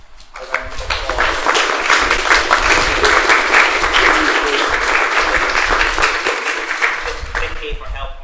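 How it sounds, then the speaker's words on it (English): Audience at an engineering talk event gives a round of applause, dense steady clapping lasting several seconds with a voice speaking over it. "If we could just give a round of applause."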